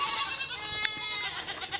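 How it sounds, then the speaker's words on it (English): Goats on a farm bleat in a steady, nasal, wavering cry that holds for nearly two seconds, close and clear with a brief sharp sound in the middle. "These goats live a difficult life."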